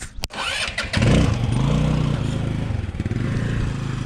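A 150cc moped engine starts up close by, then idles and revs with a rough, steady buzzing putter that stays loud throughout.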